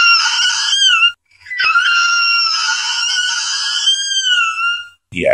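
A voice imitates his own shrill scream from watching a horror film: two long, high, wavering wails, close and loud, split by a brief pause, with a sharp breath at the end.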